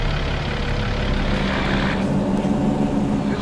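Road traffic passes by along a highway between Yuma and Kingman, Arizona: a steady, loud rushing roar of vehicle engines and tire noise, swelling as a car goes past partway through.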